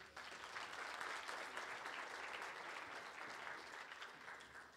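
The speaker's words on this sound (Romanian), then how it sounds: "Aplauze, vă rog!" Audience applause at a folk music festival concert, a steady wash of many hands clapping continuously from a crowd, sustained at even strength for several seconds and tapering slightly at the end.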